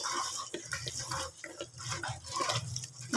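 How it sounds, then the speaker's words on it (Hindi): Goat meat being rinsed under running water, a steady splashing trickle with scattered drips that carries on without a break, close by and moderately loud. "बकरे के गोश्त को ख़ास तौर पे आप इस तरह से धो लिया करें"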